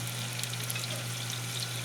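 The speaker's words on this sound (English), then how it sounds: "So just gonna give this a bit of frying" Tomato and carrots fry in a pan for a Chinese-style stir fry, giving a steady close crackling sizzle with no talk over it and a low hum beneath.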